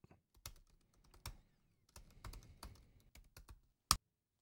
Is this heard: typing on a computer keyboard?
yes